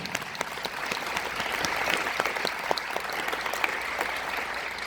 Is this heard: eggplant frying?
no